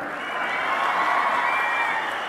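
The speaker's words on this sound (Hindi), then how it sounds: "देखिए ताली और बजा रही है" A crowd at a Rahul Gandhi election rally in Himachal Pradesh makes a steady wash of clapping and cheering that holds at an even level throughout, with no speaking voice standing out above it.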